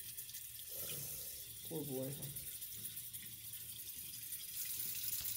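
Warm water runs from a tap in a steady hiss over a baby snake with a hard belly, while a voice speaks briefly over the flow.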